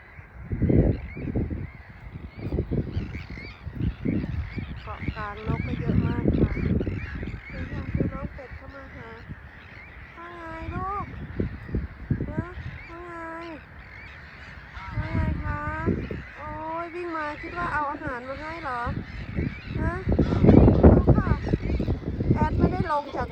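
Geese and ducks honk and quack repeatedly in a noisy, overlapping chorus close by, with a person talking throughout.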